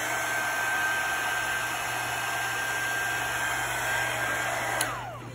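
A heat gun blows hot air over a resin tumbler with a steady, close-up whooshing hum that holds evenly for about five seconds before cutting off.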